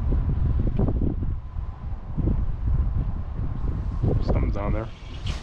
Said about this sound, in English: it brought a pretty heavy wind shift, making the place kind of nasty